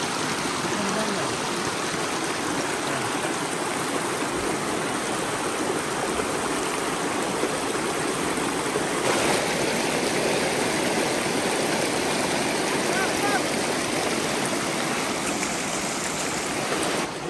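Steady, full rushing of a village stream flowing continuously, loud and close throughout with no pauses, a broad wash of water noise filling the scene.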